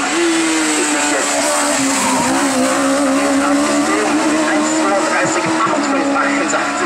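A hill climb race car with a rebuilt 1.4 litre engine fitted with motorcycle-style parts roars loud and close, its pitch holding high and wavering as it sweeps past without a break.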